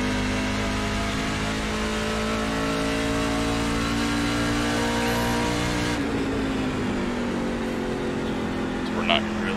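A NASCAR truck engine in the iRacing racing game at WWT Raceway at Gateway, a loud continuous drone that holds steady and then drops in pitch as a gear shifts, with a driver talking over it.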